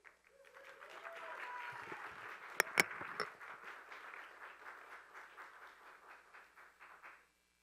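A room full of people claps, rising into steady applause with a few sharp louder claps, then tapering off and stopping.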